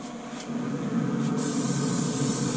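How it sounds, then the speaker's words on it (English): A steady hissing spray of canola oil from a pump sprayer onto a suckling pig's skin runs continuously for a couple of seconds, close and fairly loud. "I'm going to spray a little canola oil on the skin real quick"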